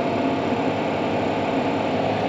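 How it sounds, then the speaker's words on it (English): A Fendt 930 tractor engine is held at steady high revs to drive the PTO shaft at about 950 RPM, a loud, constant drone with vibration and no talk. "Then we'll rev up the engine. Going for about 950 RPMs on the PTO shaft."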